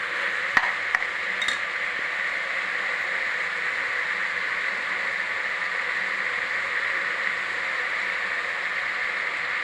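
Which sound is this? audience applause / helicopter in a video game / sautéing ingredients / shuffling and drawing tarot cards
sautéing ingredients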